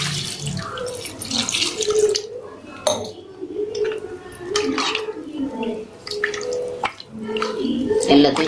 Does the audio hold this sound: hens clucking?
no